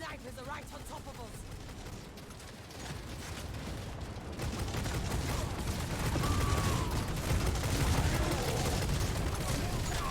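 Sniper gunfire in Necromunda: Hired Gun, dense crackling shots and impacts in a chaotic firefight, growing louder and heavier toward the end under speech.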